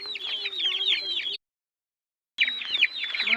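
One-month-old Aseel chicks chirp busily in a tight cluster of high, rapid peeps, breaking off into a second of silence before the chirping resumes just as densely.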